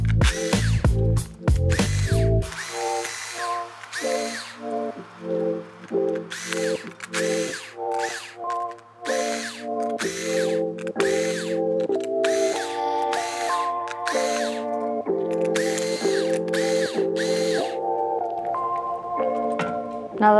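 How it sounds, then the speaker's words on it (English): Bursts of whirring from a power screwdriver backing screws out of the palm rest of an Acer Chromebook 511 C734 laptop, a rapid run of short pulses followed by longer steady spins with brief pauses between screws, close and loud with no talk. "you can remove all of the screws in the palm rest"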